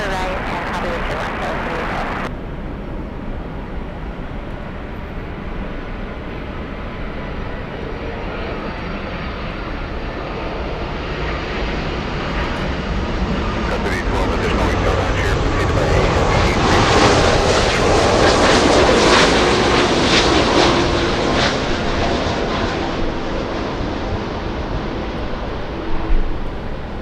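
Heavy airliner departing runway 24 left at LAX, a broad jet-engine roar that steadily swells and grows louder through the middle, then eases slightly, with faint radio chatter in the background.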